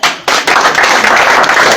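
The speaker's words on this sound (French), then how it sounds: "On s'applaudit nous-mêmes" Hands clapping together at a gathering where people applaud themselves, a dense burst of claps starting abruptly and held loud and close, with a couple of sharp louder accents.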